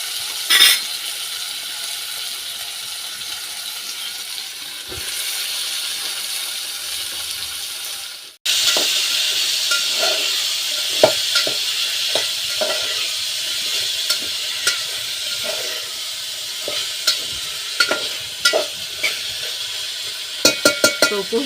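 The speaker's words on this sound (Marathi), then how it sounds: "गरे फोडणीला दिले" Jackfruit pieces drop into hot tempering in a pan over a wood-fired chulha in a Konkan home kitchen, setting off a loud, steady sizzle with occasional stirring clinks.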